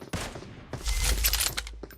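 Video game gunfire, with a sharp shot followed by a quick burst of rapid fusillade-like shots, fairly loud and close, with no talking.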